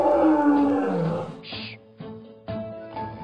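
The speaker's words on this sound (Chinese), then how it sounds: "真的是老虎" A cartoon tiger from the children's animated tale of Wu Song fighting the tiger gives a loud, growling roar at the start. Shorter sound effects follow, with brief gaps between them.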